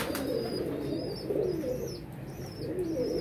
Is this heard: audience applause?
no